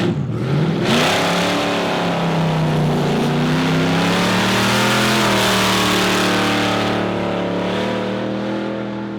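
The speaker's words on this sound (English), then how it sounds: "So we just did a drag run in the Impala" A powerful Chevrolet Impala launches in a drag race against a turbocharged Subaru WRX, its engine roaring loudly and climbing steadily through the revs before easing off, close and dominant throughout.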